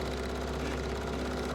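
A sewing machine runs while quilting, a loud, steady, rapid mechanical whir with an even rhythmic pulse throughout, heard alone without speech.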